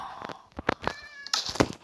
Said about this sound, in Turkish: Aa kedi. Tatlı kedi var.